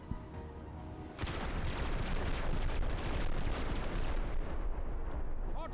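Sustained heavy gunfire in a tactical military shooter game on expert difficulty, a loud dense barrage of overlapping shots and booms that starts abruptly after a quieter opening and keeps rolling without pause.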